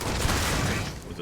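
An automated turret in Starfield fires a rapid, loud burst of shots up close, a dense barrage that trails off near the end, with a voice faintly mixed in.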